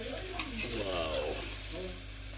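Khichdi cooking on a three-stone wood-fired stove outdoors, a soft continuous bubbling and sizzling heard briefly at a fairly faint level.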